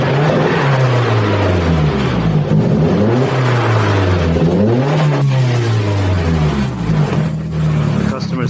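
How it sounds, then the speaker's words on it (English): A car engine with a stage 1 tune and a hard cut limiter revs loudly and close by, rising and falling in repeated sweeping pulls over a steady idle. "You can really hear the turbo."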